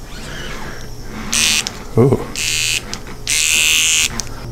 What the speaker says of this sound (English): This is the micro touch shaver.